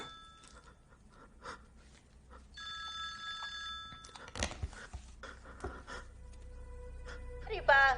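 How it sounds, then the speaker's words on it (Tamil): A phone rings on its charger in a tense scene, the ringing tone coming and going amid heavy breathing, panting and voices, with a bright ringtone burst near the end. "போன் வந்ததே கவனிக்கலடா"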